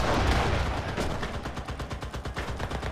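Rapid, dense gunfire from the WWII-era shooter Enlisted, machine-gun bursts rattling in quick succession, loud and close, running steadily for the whole span with only a faint hint of voice.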